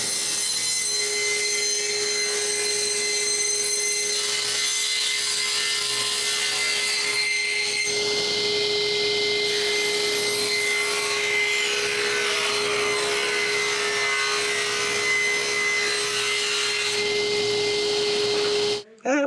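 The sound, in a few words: sawing quarter round moldings out of wood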